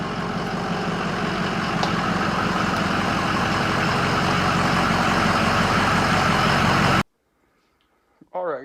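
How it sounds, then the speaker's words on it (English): A Ford 6.0 Powerstroke diesel truck idles steadily as it is pulled into a shop, giving a loud, constant engine rumble that cuts off abruptly near the end. "we're pulling the truck in right now"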